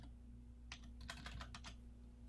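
Typing on a computer keyboard, a short burst of several quick, light key clicks in an uneven rhythm over a low steady hum, fairly faint and close.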